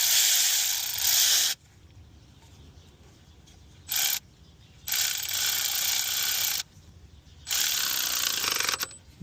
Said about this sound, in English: now we're going to snug down this worm style clamp